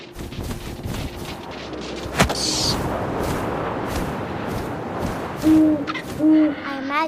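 An owl hoots in the video game What Remains of Edith Finch, with two loud, low hoots near the end over a steady windy ambience and an earlier sharp thump.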